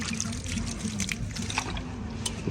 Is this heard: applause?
no